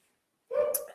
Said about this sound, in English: I don't know if you can hear him barking in the background